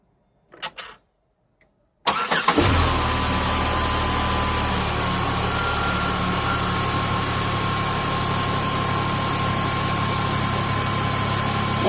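A Pontiac G6 that previously would not start fires up after a couple of brief clicks and cranks, then settles into a steady, close, rumbling idle with constant mechanical vibration and no talking.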